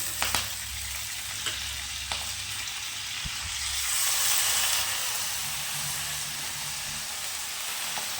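Washed fenugreek leaves and moong dal sautéing in hot oil in a pan, a steady close sizzle and hiss with a few stirring scrapes, swelling louder partway through.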